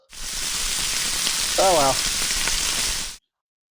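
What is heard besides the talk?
steaks sizzling in oil on Blackstone griddle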